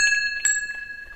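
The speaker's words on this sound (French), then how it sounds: "Chaque surjoug avait un son de cloche différent" A bell hung on a Gascon ox yoke (surjoug) rings clearly with a bright metallic tone, struck once early and again more sharply near the middle, its shimmering overtones sustaining throughout.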